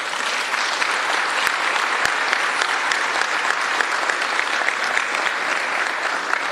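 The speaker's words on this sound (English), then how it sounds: "Please give Robert a round of applause." Interim police chief Robert Aldridge receives steady applause from a large crowd at a city event, loud, dense and unbroken, with a couple of sharp knocks partway through.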